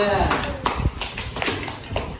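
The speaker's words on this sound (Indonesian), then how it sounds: "tepuk tangan untuk kelompok 3" Classroom applause for group 3, students clapping in a brief, uneven burst of claps close by, with a teacher talking over the start.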